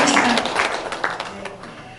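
An audience at a meeting about building a new memorial hall claps in a short burst that fades out over two seconds, with talking mixed into the applause.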